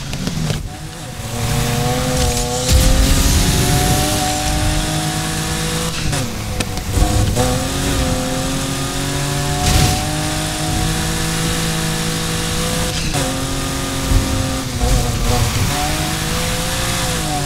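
A BMW M3 races in Need for Speed Heat, its engine droning loud and unbroken as the revs climb and dip through repeated gear shifts, with no voices over it.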